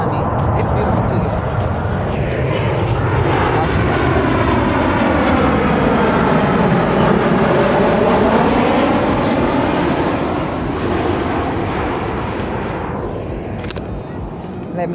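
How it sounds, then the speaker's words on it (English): An airplane passes overhead outdoors, its loud, steady engine drone swelling and shifting in pitch across the whole stretch before easing slightly at the end. "And this plane is coming."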